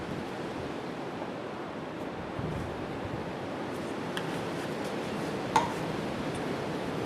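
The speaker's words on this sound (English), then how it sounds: "The wind is crazy." Strong wind buffets an outdoor microphone on a blustery day after a front, a steady low rumbling roar with faint scattered ticks and a small thump near the end, no voices.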